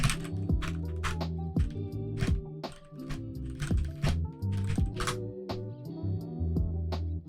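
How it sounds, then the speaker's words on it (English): Fingers type on a computer keyboard, a steady stream of close, crisp key clicks over a sustained tonal music bed. No voice is heard. "Let me try typing that into Blender."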